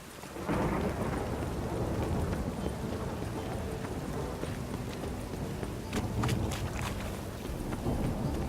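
Steady heavy rain with rumbling thunder in The Witcher 3, a dense continuous wash of downpour with a few sharper crackles toward the end, loud and close throughout.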